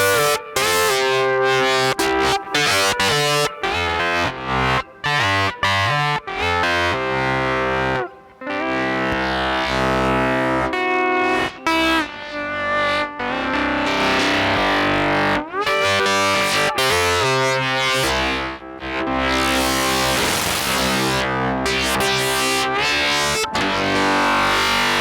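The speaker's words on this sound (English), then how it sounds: "Yeah, so it's an interesting distortion effect." Steel playing runs through a wavefolder distortion effect, loud and continuous, with harsh buzzing, folded harmonics over pitched notes and a few brief breaks between phrases.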